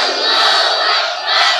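A large crowd at an Islamic sermon gathering roars a unison chant in reply to a takbir call, a loud sustained massed shout with a second swell near the end.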